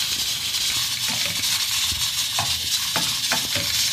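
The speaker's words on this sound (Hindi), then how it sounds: "अब हम इसमें 1/2 कप ऑयल शामिल करेंगे और इसे भूनेंगे।" Goat meat frying in half a cup of oil over low heat, a steady close sizzle with occasional stirring clatters throughout.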